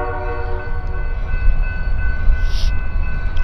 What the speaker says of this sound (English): we're gonna get to see the train cross